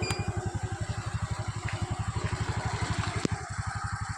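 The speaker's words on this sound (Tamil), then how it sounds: "வண்டி அவ்வளோ ஸ்மூத்தாக இருக்கும் செல்ஃப் ஓடிக்கிட்டு இருக்குது" A 2019 TVS Wego scooter's engine idling after a self-start, a steady, rapid low putter with even pulses close by and a brief click partway through.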